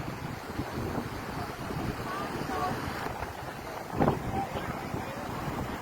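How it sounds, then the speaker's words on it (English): Strong wind buffets the microphone on a rough beach, a continuous low roar with surf mixed in, while someone talks over it throughout. "There's quite a lot of wind blowing"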